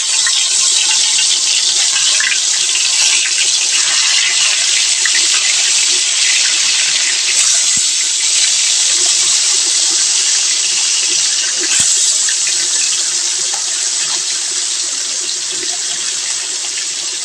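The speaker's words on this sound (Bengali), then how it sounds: "এই যে তেল গরম হয়ে গেলে আমরা একটা একটা করে মাছ দিয়ে দেব।" Taki fish sizzling and spattering in hot oil, a steady dense hiss that carries on without pause, close and fairly loud with a couple of sharp pops.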